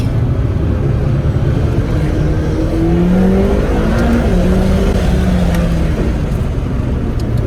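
Loud, continuous engine drone from a McLaren MP4-12C while warming up its tyres, with gliding pitch sweeps as revs rise and fall.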